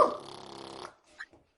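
A dingo's bark imitated on a didgeridoo: a buzzing, steady drone that cuts off abruptly, followed by a couple of short, faint yelping blips.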